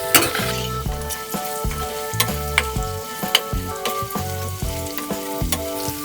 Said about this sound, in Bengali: একদম লাল করে ভেজে নিয়েছি।